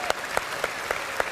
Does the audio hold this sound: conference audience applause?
yes